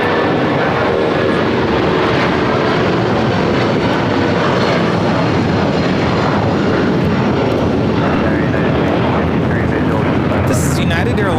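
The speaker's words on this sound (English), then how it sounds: "This is United Airlines 1621 taking off to Orlando on the 757-200." A United Airlines Boeing 757-200 takes off from LAX with a loud, continuous engine roar that fills the whole span and stays close and powerful throughout.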